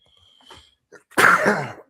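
A single loud, close sneeze bursts out after a brief sharp inhale and faint rustling.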